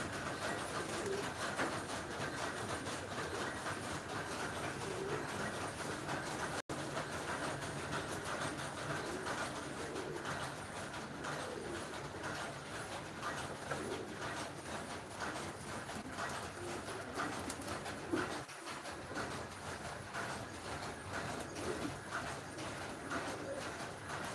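Soft cooing from a loft of more than a hundred pigeons carries under a broad, steady background hum, with a brief low thump near the end and no clear talk.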